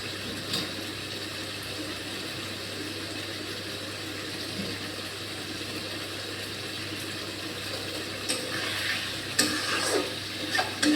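Ground spice paste for a fish curry with ridge gourd, stirred and fried in a pan, giving continuous close scraping and stirring with a soft frying sizzle beneath, growing a little busier toward the end.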